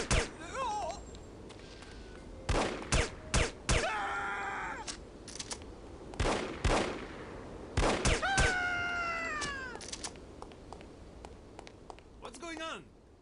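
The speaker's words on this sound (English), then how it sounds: "Why is everybody shooting at each other?" Gunfire in the video game No One Lives Forever: sharp, loud bursts of shots crack out in clusters between stretches of game voices and other in-game sounds.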